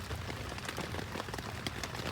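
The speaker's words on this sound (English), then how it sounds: "Heavy rain again." Heavy rain falling at night on a bushcraft shelter with a fireplace inside, a steady dense patter of drops striking the surface, soft and continuous with scattered sharper taps.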